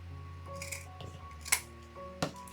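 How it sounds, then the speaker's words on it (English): Scissors snipping through deco mesh ribbon for a spring wreath, two or three crisp close cuts over a quiet room hum. "I come down on the folded area about 1/2 inch and cut up to the point."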